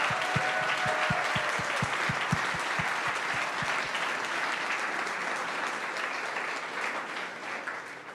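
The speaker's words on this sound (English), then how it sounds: "Let's give a round of applause for all." Audience applause at a startup demo day, a steady wash of clapping from a crowd that swells early then gradually fades over several seconds, with no talk.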